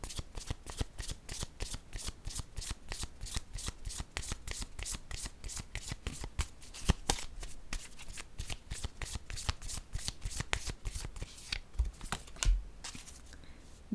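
A deck of tarot-style cards is shuffled by hand in a long run of rapid, even riffling flicks, fairly close and clear, with a few louder knocks near the end and no talking.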